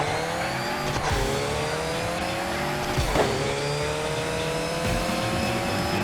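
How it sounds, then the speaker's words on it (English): A car in the CarX Drift Racing Online video game drifts with a high revving engine whose pitch climbs and drops at each gear shift, under a continuous tire squeal and without talk. "Take our little car out, do some drifting"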